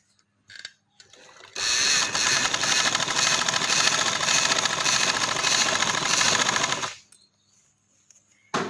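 An electric sewing machine runs steadily for about five seconds, stitching elastic into trousers, with a loud continuous whirring hum. It starts abruptly and stops abruptly, with brief quiet handling noises before and after.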